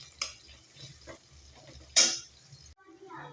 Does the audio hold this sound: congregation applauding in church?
no